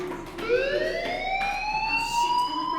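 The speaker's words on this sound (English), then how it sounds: "do you hear that fire alarm?" Fire alarm from the video game Life is Strange, a loud wailing electronic tone sweeping upward and holding steadily, siren-like and continuous.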